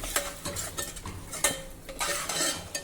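A spoon stirs yogurt into chole pulao masala in a pan, giving a string of close, light scraping and clinking strokes at an irregular rhythm, with a faint sizzle underneath and no talking.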